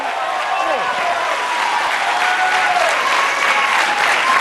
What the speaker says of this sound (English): Oh, the crowd loving it.